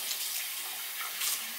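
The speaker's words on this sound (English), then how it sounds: "So we're going to rinse out cheesecloth again." Running water from a tap pours steadily while cheesecloth is rinsed, a close, continuous hiss with slight splashy swells and no voices.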